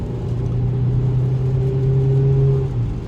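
A car engine hums steadily and climbs in pitch as the vehicle accelerates, heard from inside the cabin with no talking.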